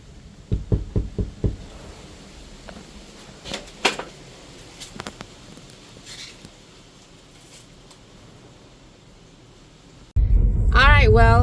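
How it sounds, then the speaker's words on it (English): Knocks on the front door of a residence, a quick cluster of sharp raps followed by a second burst, fairly close, with quiet outdoor background and a voice starting at the end. "so let's try knocking."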